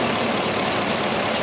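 The rebuilt engine of a 2004 Chevrolet Avalanche idles a little low with a misfire, giving a steady, close, low engine rumble with no talk over it.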